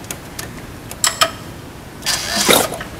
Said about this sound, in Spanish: Ahí dejó de estar trancado el motor y ya empieza a girar.